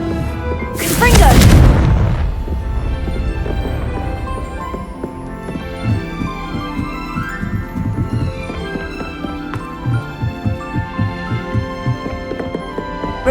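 Confringo spell fired in Hogwarts Legacy, a single loud explosive blast early on that decays into a rumble, followed by game music and rhythmic thuds.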